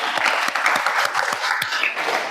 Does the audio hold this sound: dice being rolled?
no